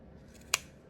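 A single quick snip of scissors cuts through faux fur for a Grinch craft, sharp and close against a quiet background.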